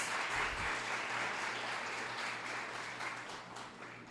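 A church congregation applauds steadily for several seconds, a dense, even wash of clapping heard from within the room, with a low hum underneath.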